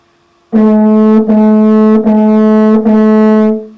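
Four sustained French horn quarter notes on a single pitch, evenly spaced with short breaks between, played loud and close with a warm tone.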